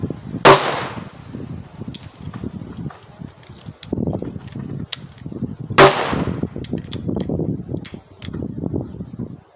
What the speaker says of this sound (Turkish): 6 adet atış yapacağım.